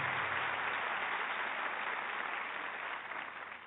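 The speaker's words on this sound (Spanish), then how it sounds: "Un aplauso para ellos." Audience applause at a comedy show in a hotel venue, a dense wash of many hands clapping at once, steady and fairly loud, tapering slightly at the end with no speech over it.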